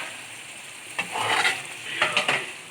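Butter black pepper mutton karahi frying in a pot, a soft continuous sizzle with a few quick spoon stirs and scrapes, close and brief, no talking.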